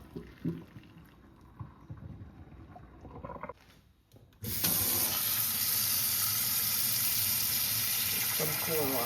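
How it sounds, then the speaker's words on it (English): Water is poured off boiled saltfish and splashes steadily into a kitchen sink, a loud continuous rush that begins abruptly after some quieter kitchen sounds and softer background talk. "we're gonna throw off the water"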